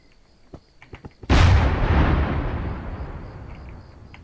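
A tank turret built in Minecraft fires a single booming cannon shot in the video game, preceded by a few small clicks, then a long rumbling decay.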